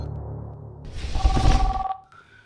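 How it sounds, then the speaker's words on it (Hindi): Several telephones ring together in an external affairs office in an audio drama, a brief burst of overlapping electronic rings swelling loudly, then cutting off to a single faint tone. "हिल्स के एक्सटर्नल अफेयर्स के दफ्तर में कई फोन्स एक साथ बजे जा रहे थे और इसी शोर के बीचों बीच सेक्रेटरी भरत जोशी"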